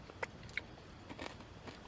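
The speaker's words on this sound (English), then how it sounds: "them bananas are still super crunchy, which isn't bad" A couple of sharp crunchy bites into breakfast of crunchy bananas with oats, cooked outdoors in the woods, sound close and brief over quiet camp ambience.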